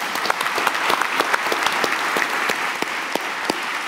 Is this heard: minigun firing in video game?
no